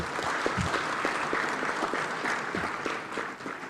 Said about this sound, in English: Let's give our Papa another round of applause.